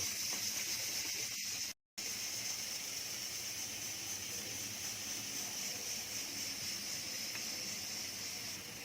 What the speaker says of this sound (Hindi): अब ये बोम्बिल फ्राई कर रही हूँ